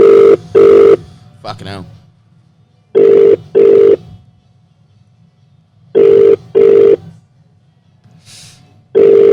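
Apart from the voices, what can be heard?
telephone ringing on an international call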